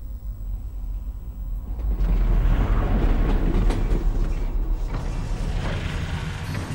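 A train in Half-Life: Alyx rumbles along on its tracks, with a loud continuous roar, metallic creaks and clatter that build up and then hold steady.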